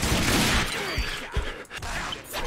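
Gunfire in the post-apocalyptic shooter game RAGE, a dense burst of shots and crashing impacts, loud and close, with sharp hits and debris clatter over a short stretch.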